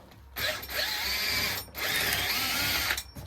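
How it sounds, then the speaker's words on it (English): Power drill boring a small shallow hole into a woodturning tool, two steady whining bursts of about 1.3 seconds each separated by a brief pause, close and loud with no talk. "all I've got to do now is drill a little hole"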